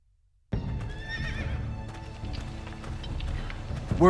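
Horse in a Game of Thrones video game neighs loudly with a wavering whinny right after a sudden start, followed by hoof clatter and movement noises close by.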